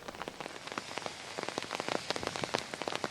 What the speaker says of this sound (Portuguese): Está chovendo bastante